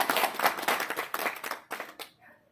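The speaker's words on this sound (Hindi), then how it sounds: "स्वयं के लिए तालियां बजाएं।" Audience at a monthly branch meeting clapping for themselves: a short burst of moderate, uneven handclaps with some voices mixed in, trailing off at the end.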